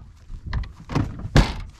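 A few close mechanical clunks and a sharp thunk as a Seat Toledo car door is worked open, with a brief rustle between them.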